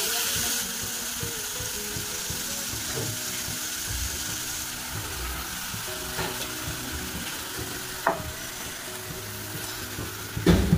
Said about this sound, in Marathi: भाज्या टाकून छानपैकी हलवून घेते जरा तेलावरती परतून, म्हणजे अजून चव वाढेल त्याची।